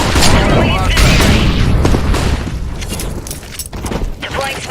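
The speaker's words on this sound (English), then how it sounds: "Throwing flashbang." Flashbang grenades in Counter-Strike: Global Offensive burst loudly, with sharp blasts and a dense crackle of gunfire and booms that fade into a lingering rumble.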